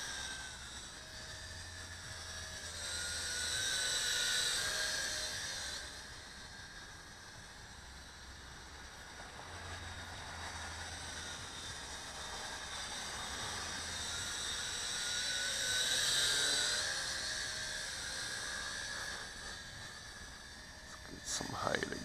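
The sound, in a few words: UDI U818S RC quadcopter drone flying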